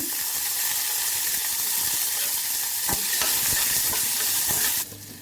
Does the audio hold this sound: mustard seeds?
yes